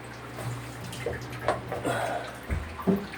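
Water sprays and splashes steadily from an aerator spray bar into a home well water tank, with a few hollow drips and gurgles standing out, no voices.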